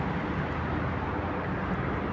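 Steady roadway traffic in slow, crawling congestion, a dense continuous rumble of nearby car and bus engines with no distinct passes or horns, loud and unbroken throughout.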